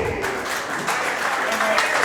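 A crowd claps warmly for a good shot onto the black at the men's singles lawn bowls final of the AEBF Nationals, a brief burst of scattered applause.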